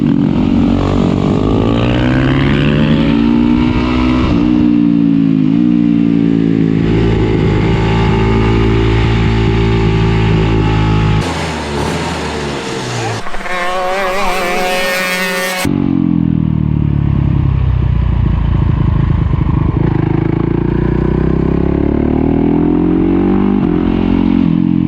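A supermoto motorcycle engine on a track revs hard and loud, rising and falling through the gears, with a short sharp high-pitched burst partway through before the engine drone returns.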